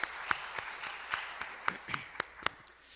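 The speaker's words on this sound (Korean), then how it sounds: "우리 하나님께 영광의 박수를 돌려드리겠습니다." Sparse, scattered handclaps from a church congregation after a Sunday afternoon service prayer, a few sharp claps spaced irregularly through a quiet room rather than full applause.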